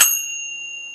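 A single bright bell is struck once, with a sharp attack and a clear ringing tone that sustains and slowly fades, alone and close.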